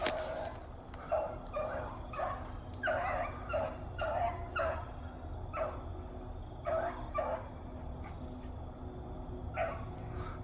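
A dog gives repeated barks and high whimpering yips through a hound-breeding pen, close and steady over a low background hum, with bursts arriving in uneven clusters and no one speaking.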